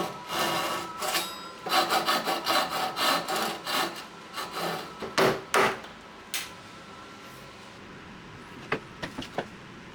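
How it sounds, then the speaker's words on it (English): A pull saw cuts a half lap joint into a wooden table stretcher, giving a series of rhythmic rasping strokes at close range that slow and thin out into a few scattered taps and scrapes. "so I cut this out with my pull saw"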